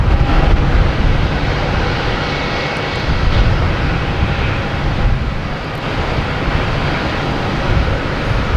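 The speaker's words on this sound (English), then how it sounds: "Now we have a Delta coming in. From Salt Lake City, an A321neo." Delta Airbus A321neo airliner arriving from Salt Lake City at Boston Logan: a steady, loud jet engine roar with a broad rushing rumble, holding fairly even throughout.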